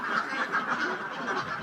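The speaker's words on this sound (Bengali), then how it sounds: "550 পিস হাঁস আনা হয়েছে হাওড় থেকে" Ducks brought in from a haor wetland flock at a duck farm in Sunamganj, about 550 birds, with a continuous, dense chorus of quacking that carries steadily throughout, with no voices.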